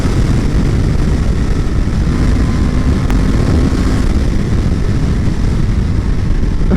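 An Indian FTR 1200 motorcycle accelerates hard on a test ride, its engine roaring loud and steady throughout, blended with heavy wind rush, with a faint rising tone midway.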